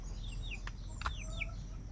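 A hen clucking nearby at night, a few short chirpy calls repeated over a low steady background hum, with no one talking.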